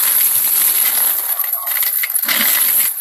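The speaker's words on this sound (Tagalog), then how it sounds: "Gabundok na barya na tagba-20" A heap of twenty-peso coins handled in a pile, giving a steady, bright metallic jingle and clatter up close, continuous with brief dips.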